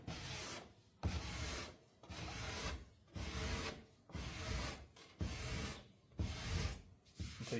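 A card scraper rasps old finish off a wooden surface in about seven steady, evenly spaced strokes, each a close, dry scraping pass with a brief pause between.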